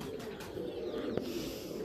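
Domestic pigeons roaming free in a yard with chickens coo softly, a low, faint, murmuring call heard close by with one brief sharper knock partway through.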